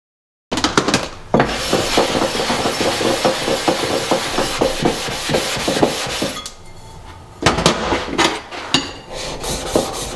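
A steel blade from an old wooden hand plane is rubbed back and forth on a 400-grit sharpening stone, producing steady rhythmic rasping strokes, close and loud, with two short pauses.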